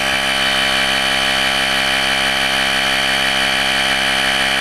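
Portable air compressor switched on inside a Honda Civic with the engine running, giving a steady, loud motorized drone with a dense mechanical whine that holds constant throughout, with no talking.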